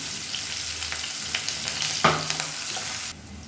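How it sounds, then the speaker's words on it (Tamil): Onions sizzling and frying in a pan on the stove, a soft steady crackle with light scraping stirs and one sharper clink of a utensil partway through. "இப்போ பார்த்தீங்கன்னா வெங்காயம் வதங்கிட்டு இருக்கு"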